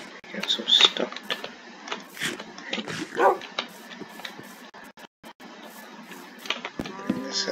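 A dog in the video game Minecraft barks briefly on a big farm among other livestock noises, with a person talking over much of it.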